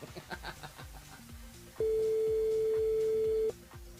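During a French morning radio show, a telephone signal rings as a steady electronic tone lasting under two seconds, loud and clear, between fainter background music.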